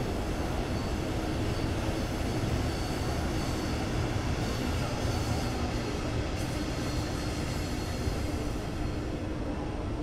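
An ICE BR 401 train arrives at Aachen in Train Sim World 4 with a loud, dense, continuous roar of rolling wheels and traction noise that holds steady for the whole stretch.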